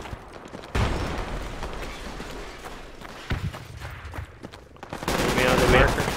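Gunfire in the military shooter Project Reality, with sharp shots and bursts of automatic fire at mid distance over battlefield noise, a heavier flurry near the end, with voices talking intermittently.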